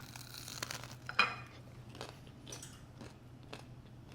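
Close, quiet crunching and biting on a homemade three-ingredient gluten-free bagel, a few soft chewing bites spread over a few seconds with a sharper crunch near the start of the sequence.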